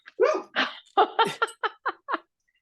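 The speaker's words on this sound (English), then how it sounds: "your dog is in agreement. It's like a bark on cue." A dog barks in a quick run of about eight sharp, close barks over roughly two seconds, loud and alone with no talk over it.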